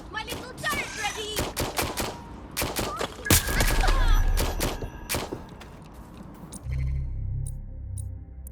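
A deployable turret in Watch Dogs: Legion fires rapid, sharp bursts of gunfire, close and loud, with a heavy thump midway before the shooting thins out and a low hum remains.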